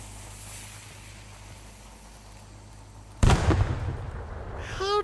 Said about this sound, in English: I swear that fucking grenade launcher's broken